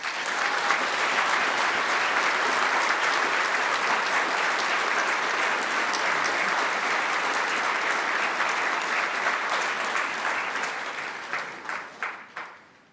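A full hall of graduation guests at GMIT applauds Bachelor of Science Honours in Medical Science graduates, thick continuous clapping for about ten seconds, then breaking into a few last isolated claps before silence.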